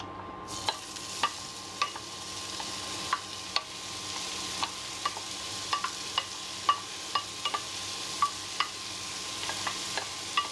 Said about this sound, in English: Now you're going to put the onion